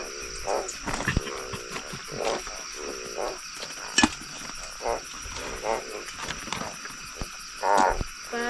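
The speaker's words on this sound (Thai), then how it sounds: "กบวันนี้กบ" Frogs croak repeatedly in a night forest campsite in rural Thailand, short bursty calls recurring every second or so over a steady background of insects, fairly close and clear.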